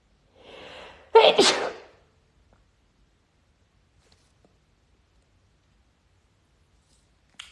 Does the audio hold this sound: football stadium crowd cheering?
no